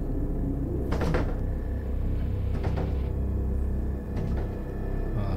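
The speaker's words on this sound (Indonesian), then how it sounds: "Bunyi grill, bunyi grill pintu dia." A metal grille door at the front of a house rattles and clanks open in a few short metallic bursts over a steady low rumble, moderately close, with no talk.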